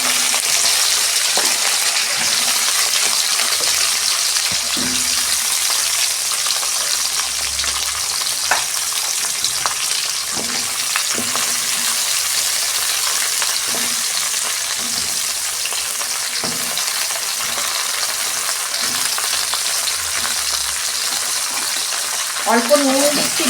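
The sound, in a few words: okra frying in oil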